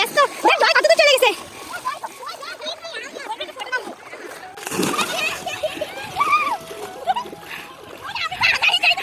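Someone bathing in a river sends water splashing and sloshing in irregular bursts, close by, under lively chatter that includes children's voices.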